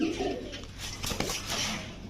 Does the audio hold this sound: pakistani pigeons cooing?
yes